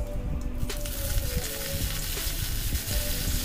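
Urad dal, mustard seeds, cumin, a dried red chili, asafoetida and curry leaves frying in hot oil as a tempering for mango roti pachadi, a steady close crackling sizzle with small pops and no voices.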